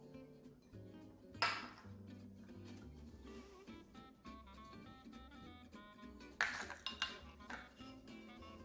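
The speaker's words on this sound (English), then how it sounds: "And she's going to mix that all up together." Bacon, cheese and oatmeal being stirred together in a mixing bowl for homemade pet treats, soft clinks and scrapes of utensil against bowl over quiet background music, with a couple of sharper knocks.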